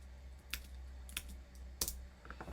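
Three or four sharp, isolated computer keyboard key presses spaced about half a second apart, quiet and close, over a low steady hum with no talking.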